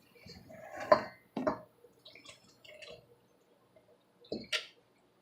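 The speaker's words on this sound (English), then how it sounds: "So, now I'm going to add this to the flour mixture." Wet ingredients for WWII-era grape nut orange muffins go into a bowl of flour mixture, making soft, quiet wet squelches and drips with a few light clinks of a bowl or utensil and no talking.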